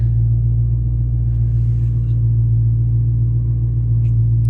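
A Dodge Charger Hellcat's engine idles with a steady, loud, deep rumble, heard from inside the car's cabin with no speech over it.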